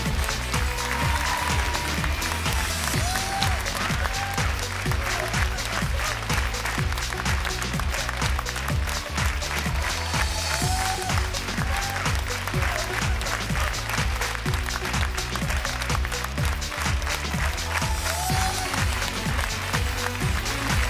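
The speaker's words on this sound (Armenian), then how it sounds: "Խմբի ղեկավարներին եկեք ծափահարենք" Sustained audience applause at the X-Factor 4 Armenia gala result show, saluting a departing group's leaders, with dense clapping and crowd noise running steadily throughout over continuous music.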